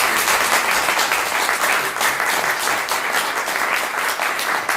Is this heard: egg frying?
no